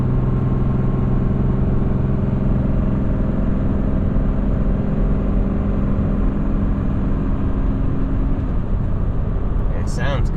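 Dodge Ram 4th gen pickup with a Cummins diesel engine towing a heavy 32,000 lb load uphill, a steady loud low drone and rumble throughout with a brief higher burst near the end.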